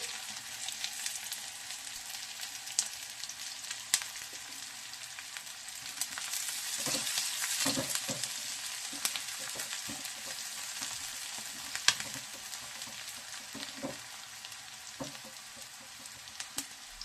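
Garlic and onion frying in hot oil for a Nepali-style dish, a continuous crackling sizzle with occasional scrapes and stirs of a utensil in the pan, close and fairly quiet, without speech.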